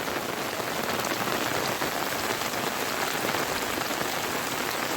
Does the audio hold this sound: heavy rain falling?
yes